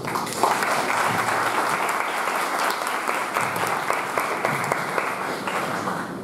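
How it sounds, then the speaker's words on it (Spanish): Sustained audience applause greeting Dr. Jessica Castillo at a public-sector budget lecture for students, dense steady clapping from a sizable crowd filling the whole stretch at even loudness. "Recibamos a la doctora Jessica Castillo con fuertes y cordiales aplausos."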